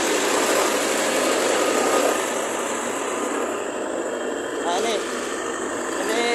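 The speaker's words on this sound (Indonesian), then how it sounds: "ini mesin molennya teman-teman" A mortar mixer (molen) runs at a brick-making site where clay soil is mixed: a steady, loud mechanical engine drone holds throughout with little change in rhythm.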